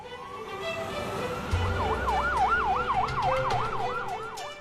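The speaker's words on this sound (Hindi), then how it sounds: "5 मिनट में एम्बुलेंस आपके पास पहुंच जाएगी।" Wailing ambulance siren cycling rapidly up and down, loud and steady over road traffic rumble, with a low engine swell joining partway through and no voices.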